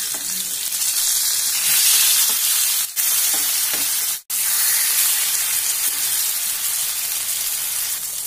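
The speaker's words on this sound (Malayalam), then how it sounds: "ഇപ്പൊ ഇതാ മീന് ഫ്രൈ ആയി വന്നിട്ടുണ്ട്." Fish frying in a pan over a medium flame for a home-style Kerala lunch gives a steady, close, dense sizzle and hiss throughout, with two brief dips in the crackle partway through.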